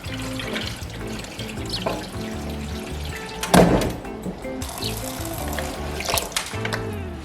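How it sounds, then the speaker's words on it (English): Soaked black-eyed beans are rinsed in clean running water, a steady pouring, splashing stream with a brief louder splash midway, and no one talking. "So we pour it and wash it very well in clean water."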